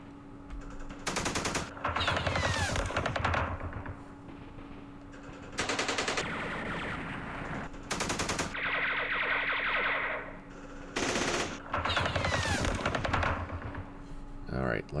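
Gunfire in the Campaign Series Vietnam video game at Dien Bien Phu, repeated loud bursts of rapid machine-gun shooting separated by quieter pauses, with someone talking between bursts.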